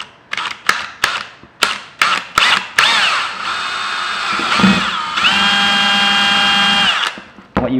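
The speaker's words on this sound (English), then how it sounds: "Now this is just plastic, so it drills pretty easily." A power drill bores through a plastic motorcycle rally windscreen: several short sharp bursts of drilling, then a sustained high whining run, loud and close with no talk.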